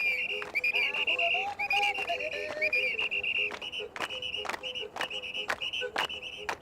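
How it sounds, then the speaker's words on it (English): A little whistle plays as a demonstration of a wind instrument, giving a steady, fairly loud tone that holds through most of the stretch, with sharp percussive ticks and clicks cutting in at regular intervals. "Now look at this little whistle."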